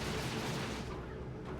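Dense gunfire from the video game Dawn of War 2, in an Imperial Guard versus Chaos match with a Sentinel firing, forms a steady, loud barrage of overlapping shots and booms that fades slightly toward the end.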